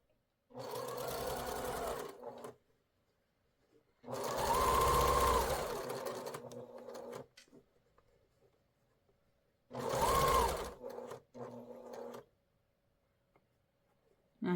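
A sewing machine stitching quilt blocks cut from high-contrast fabric runs in three bursts of steady whirring, each lasting one to three seconds, with quiet pauses between them.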